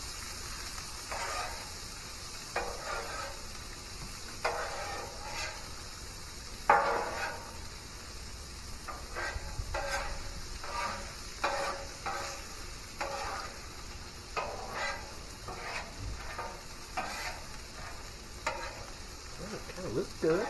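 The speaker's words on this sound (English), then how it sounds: "I think we're going to go ahead and dump the corn." Corn frying with bacon and onion in a pan, a steady sizzle running throughout, broken by repeated scraping stirs every second or two, close and moderately loud with no talking.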